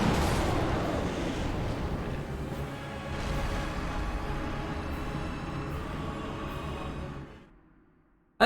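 Midir's phase 2 explosions in the Dark Souls 3 video game: a loud, sustained rumbling roar that holds for about seven seconds, then fades into silence, ending on a brief pop.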